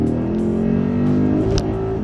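A Lexus IS F fitted with an X-Force cat-back exhaust revs in a light pull, its engine drone steady and loud with a rising tone and a brief sharper burst near the end.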